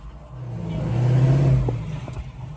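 A Chevrolet pickup truck with a supercharged LT4 V8 on a road course, a short engine rev that swells to a peak and falls away again within a couple of seconds.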